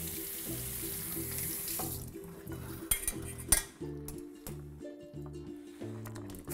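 Boiled schnitzel-style vegan pieces being rinsed under cold water from a kitchen tap, with a loud running stream into the sink and occasional clinks of a pot or utensil as the food is shaken, no voices.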